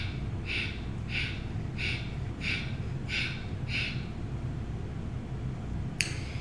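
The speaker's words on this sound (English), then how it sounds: "we're going to exhale through the nose in 8 equal" Short nasal sniffs exhaled through the nose during a Kundalini yoga breathing exercise, about six evenly spaced soft puffs in a steady rhythm, then a brief sharper breath near the end, over a low room hum.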